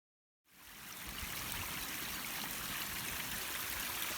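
A small creek flows in the countryside around Goppenstein with a steady, close rushing and trickling of water that starts abruptly and continues evenly.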